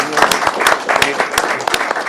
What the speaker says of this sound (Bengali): একদম জোরে একটা হাততালি দিয়ে সবার জন্য